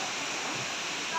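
A hidden waterfall, heard as a steady broadband rush of falling water that stays loud and constant throughout, with a slight swell at the very end.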